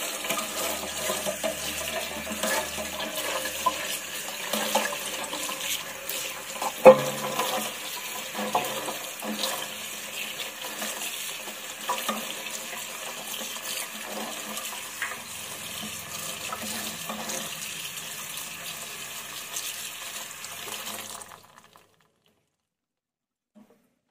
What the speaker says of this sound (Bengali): তো এবার পাপড়িগুলি ভালোভাবে পরিষ্কার করে ধুয়ে নিই, যেন একদমই নোংরা না থাকে